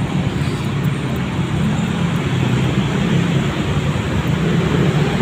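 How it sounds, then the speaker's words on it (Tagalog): Steady road traffic near a bridge with many vehicles passing, a continuous low rumble of engines and tyres, fairly loud and close, with no talking. "So waiting muna ako dahil marami sumadaan sasakyan"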